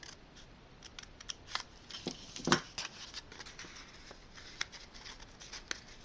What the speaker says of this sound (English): And I'm cutting from the outside to the fold